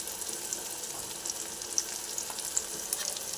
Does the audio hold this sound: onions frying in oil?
yes